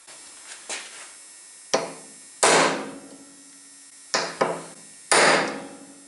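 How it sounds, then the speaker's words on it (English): Five sharp hammer blows on wood during a wiper shaft repair on a 230 GE, irregularly spaced, each a loud knock with a short ringing decay over a low steady hum. "So that it really lasts, I knock on it with a hammer"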